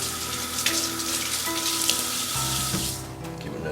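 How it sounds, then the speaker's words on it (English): Tap water runs steadily into a kitchen sink as a spoon is rinsed, a continuous close splashing hiss that shifts in tone partway through and then stops near the end. "let me rinse off my spoon."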